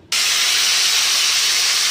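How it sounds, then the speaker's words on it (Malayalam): Curry leaves hit hot coconut oil during sweet chilli mixture preparation, setting off an abrupt, loud, close hissing sizzle that holds steady after the first instant. "കറിവേപ്പിലയും കൂടെ വറുത്ത് പോരാം."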